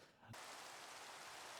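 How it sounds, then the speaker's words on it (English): Steady rain falls in the Minecraft video game, a dense, even hiss that switches on abruptly after a brief quiet moment and then continues loud and unbroken. "It started raining, which is cool."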